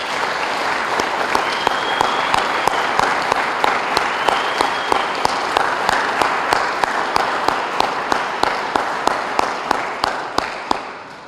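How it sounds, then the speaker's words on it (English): A roomful of people at a town State of the Town address applauds the Dutchess County Sheriff's Office, steady dense clapping with sharp individual claps standing out, sustained loudly for about eleven seconds. "can I get a round of applause for our Dutchess County Sheriff's Office?"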